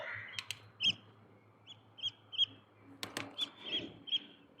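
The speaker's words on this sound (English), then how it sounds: "Hello, crows." Several crows cawing by a fence outdoors, short harsh calls repeating irregularly near and far over quiet background hiss, with a couple of faint clicks and no talk.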